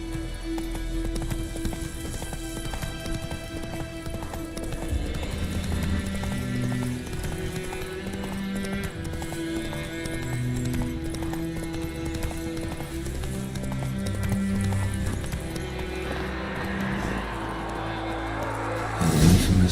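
A horse gallops in The Witcher 3 video game, with rapid, steady hoofbeats close by that run throughout and blend with the game's background sound.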